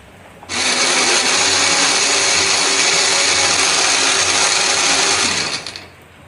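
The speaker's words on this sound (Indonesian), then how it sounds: "Di sini aku akan menghaluskannya menggunakan blender" A kitchen blender roars loud and close for about five seconds, grinding spices with a little water or oil, starting abruptly and winding down at the end with no talk.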